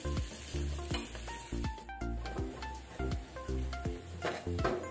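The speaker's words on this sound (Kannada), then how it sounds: "ಬೆಳ್ಳುಳ್ಳಿ ಬ್ರೌನ್ ಆಗೋ ತನಕ ನಾವು ಫ್ರೈ ಮಾಡ್ಕೊಳ್ಳುವ" Garlic fries in hot oil until brown for a lima beans curry, giving a steady close sizzle broken by regular scraping stirs and light clinks of a utensil against the pan.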